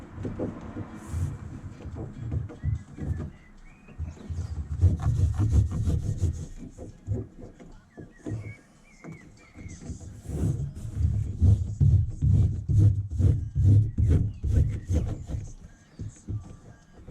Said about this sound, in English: Applying sound deadening